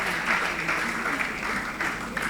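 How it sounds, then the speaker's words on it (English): Applause from a quiz audience for the young scorer at a semi-final, a steady patter of many hands held at moderate level throughout, with some voices mixed in. "round of applause for him"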